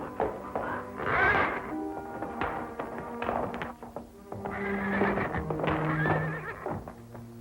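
A horse whinnies and snorts nearby in a 1947 film serial, with hooves shuffling and thudding on the ground between the calls.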